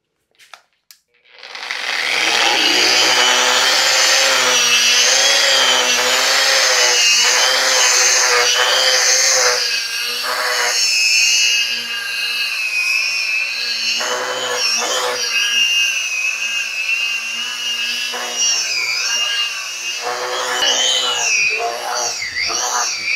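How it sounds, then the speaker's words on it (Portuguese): Foam sandpaper scrubbing a painted faux travertine marble wall finish, a loud, steady abrasive hiss that runs continuously for about twenty seconds with brief dips in intensity, no voices over it. "mas eu vou entrar diretamente com a lixa espuma. Vai fazer pó."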